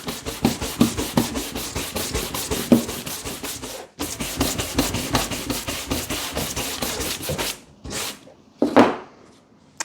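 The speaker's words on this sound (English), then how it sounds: "what we're doing with the brush here is more spreading the product, removing any surface product, and spreading it evenly over the surface of the leather" A brush works cream or conditioner over an old leather belt in steady, rapid back-and-forth rubbing strokes, close and continuous, briefly pausing before a few final separate swipes.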